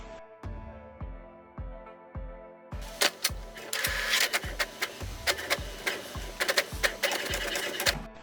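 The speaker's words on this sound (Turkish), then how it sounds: "Yazıcı bize bir test sayfası yazdıracaktır." An HP inkjet printer prints a test page, with a steady rhythmic mechanical thumping joined midway by louder rattling and clicking as the paper feeds.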